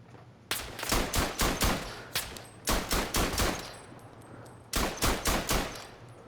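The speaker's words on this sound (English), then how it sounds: "That was a lucky shot with the Browning." Browning machine gun in a WW1 Verdun video game firing in three sustained rapid bursts of closely spaced shots, loud and near, with brief pauses between bursts.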